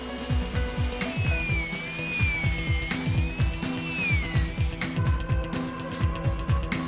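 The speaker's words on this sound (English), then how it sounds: "A CNC machine drills screw holes into the boards." A CNC machine drills screw holes into recycled plastic lumber boards, giving a continuous whirring machine hum with a wavering tonal whine and a fast, regular train of mechanical clicks and strokes throughout, close and without talk.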